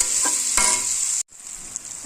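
Salt and turmeric frying in a pan for a fish chorchori: a steady bright sizzle with a few scraping stirs early on. The sizzle cuts out abruptly for a moment, then resumes more softly.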